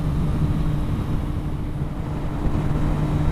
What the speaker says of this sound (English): 69 mile an hour winds